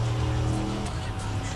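A muscle car's engine drones in the racing video game Need for Speed Undercover. The steady, loud, low rumble holds with only slight shifts, as if the car is cruising in gear.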